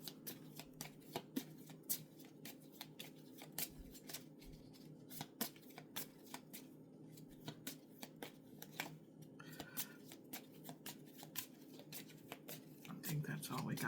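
Repeated crisp riffling and snapping of a tarot card deck being shuffled, close by, with quiet talk in the background.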